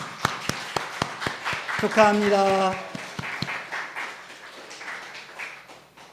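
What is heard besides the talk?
welcoming applause in a church after a baptism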